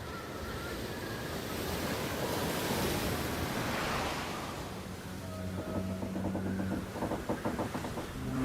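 Stormy ocean surf roars continuously, loud and broadband with wind noise on the microphone, swelling mid-clip; later a low rhythmic engine-like hum joins the crashing waves.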